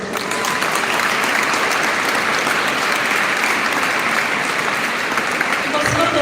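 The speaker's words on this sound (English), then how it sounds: "Can we give a big round of applause?" A school audience gives a big round of applause for the chief guest at a morning event, steady dense clapping from many hands filling the room, loud and continuous with a few voices mixed in.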